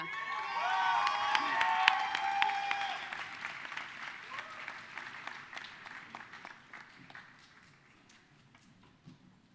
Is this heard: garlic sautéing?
no